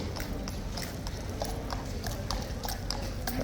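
Hooves of a King's Guard horse clip-clop steadily on pavement, a brisk regular beat close by over a busy street background.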